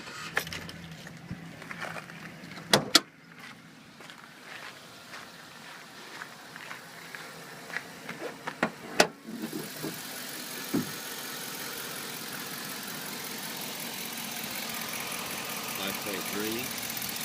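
Footsteps and a jangle of keys come first, then the 5.3-liter engine of a 2007 Chevrolet Silverado 4x4 cranks, catches and settles into a steady, even idle close by.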